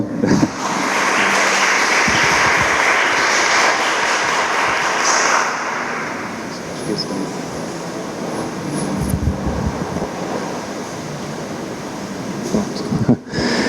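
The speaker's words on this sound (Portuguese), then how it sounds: "Uma salva de palmas." An audience at a lecture applauds, a dense, continuous wash of clapping from many hands that stays loud and steady before gradually thinning toward the end.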